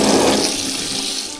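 Water pouring from a bathroom sink tap, a short steady hiss and splash that is fairly close and fades slightly toward the end, with no talking.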